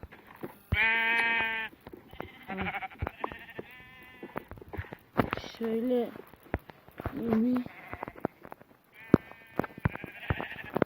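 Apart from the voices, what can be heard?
sheep bleating in a video game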